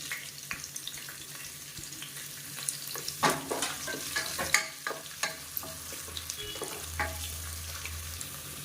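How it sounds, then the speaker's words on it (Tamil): Sliced onion fries in oil in a pan, a steady low sizzle broken by repeated scraping and clattering stirs, fairly quiet and close, with no talk. "வெங்காயம் நல்லா வதங்கிட்டு இருக்கு."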